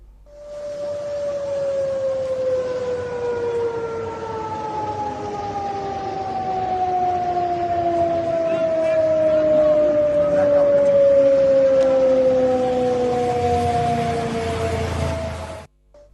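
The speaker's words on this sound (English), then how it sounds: "We heard the sirens, we saw the lights being switched off." Air raid sirens wail in Jammu and Kashmir during cross-border tensions, a steady loud tone sliding slowly downward in pitch, carrying over distant ambient noise before cutting off.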